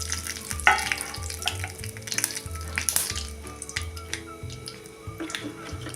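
Curry leaves and a pinch of turmeric hit hot oil for a Marathi goda masala amti, crackling and spitting loudly at first, then settling into a steady close sizzle with sharp pops.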